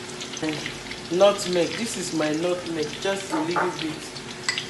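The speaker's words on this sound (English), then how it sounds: "My onions is frying." Onions, bay leaf, thyme and curry sizzling steadily in sunflower oil in a pot for jollof rice, a soft frying hiss running under a woman's close, continuous talking.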